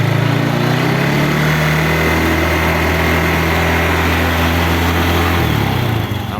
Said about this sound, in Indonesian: Terus kita ke kickstarter ya, hidupkan mesin.